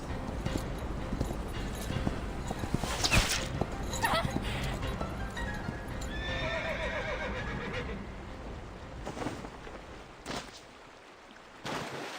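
A horse whinnies amid busy clip-clopping hooves, with scattered voices and noisy outdoor commotion throughout.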